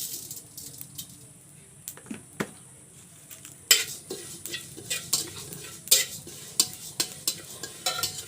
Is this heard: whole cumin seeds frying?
yes